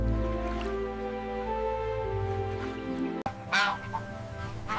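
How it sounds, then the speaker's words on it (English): A goose honks in a long, nasal, harmonic call that holds for about three seconds, followed by a sharp break and a few rougher, shorter honks. "This is a goose. A goose is gentle."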